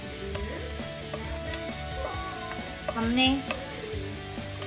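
Bajra vada, a millet fritter, fries in a small amount of oil in a pan, giving a steady close sizzle with light stirring clicks and a brief louder crackle midway, while a voice speaks faintly over it.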